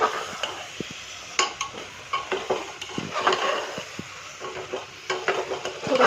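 Carrot halwa is stirred and fried in a pan, with a spoon scraping and tapping in steady, uneven strokes over a soft, continuous sizzle, close up, with no talking.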